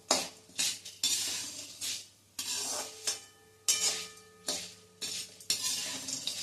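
Fenugreek seeds roasting in a pan, stirred with a metal spoon: repeated bursts of scraping and rattling against the pan over a low sizzle, close and fairly loud, with brief pauses between strokes.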